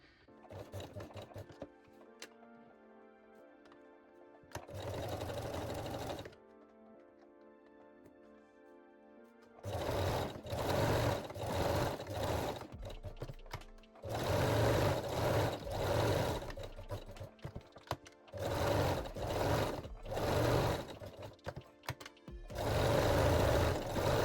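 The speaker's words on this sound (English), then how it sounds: "Now I will sew the rest with a straight stitch." Sewing machine running a long straight stitch on a lace bralette, in several bursts of steady whirring and rapid needle clatter separated by short pauses, close and clear with no talk.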